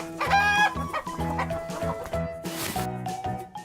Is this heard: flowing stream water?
no